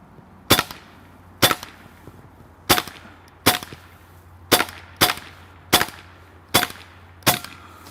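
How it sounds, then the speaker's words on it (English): A Hatsan semi-auto PCP air rifle in .22 caliber (5.5 mm) fires nine sharp, loud shots at irregular intervals of roughly one second, each a crisp crack with a short ringing tail over a quiet background. "I think we might be running a little low on air, but let's try one more mag"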